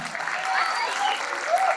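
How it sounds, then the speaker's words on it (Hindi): Loud applause from an audience at a poetry recital, steady and continuous, with faint voices mixed into the clapping. "जोरदार ताली"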